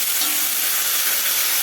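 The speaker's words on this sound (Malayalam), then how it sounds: "തക്കാളി നന്നായിട്ട് വഴറ്റി എടുക്കണം." Tomatoes sauté in a pan for a homestyle Kerala fish curry, giving a steady, close, even sizzle with a soft hiss that runs unbroken and alone, no voices over it.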